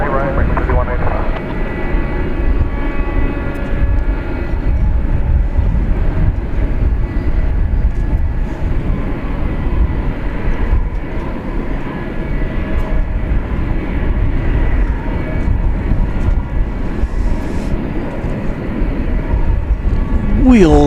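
A jet airliner landing on the runway at Dallas Fort Worth International Airport at night, its engine roar a steady loud broadband rumble that holds throughout, with a rising whine near the end.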